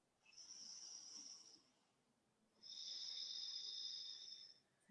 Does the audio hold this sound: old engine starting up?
no